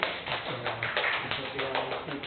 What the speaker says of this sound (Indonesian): kita beri tepuk tangan dulu ya